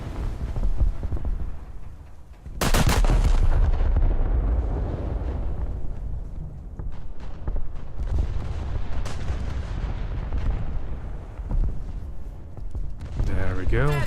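Battleship ready room detonation in World of Warships, a sudden loud blast that erupts and roars for a couple of seconds before fading into rumbling battle noise with scattered sharp cracks, with voices talking over it.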